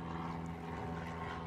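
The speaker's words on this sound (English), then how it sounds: "more airplanes." An airplane passing overhead near docks where someone is fishing, a steady droning engine hum with no voices.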